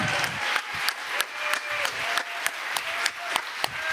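Audience applause at the Téléthon Digital 2021 launch welcoming Jean-Michel Jarre, a steady wash of clapping with regular sharper claps punctuating it, sustained for several seconds.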